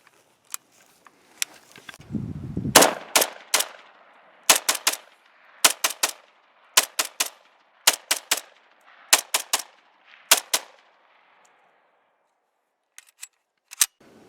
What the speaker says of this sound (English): you just saw us firing a VZ58 rifle